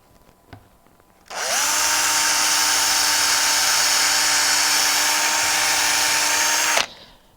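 A power drill bores a hole in a small wooden gift box, running at a steady high-pitched whine for about five and a half seconds after a brief quiet lead-in, then stopping abruptly.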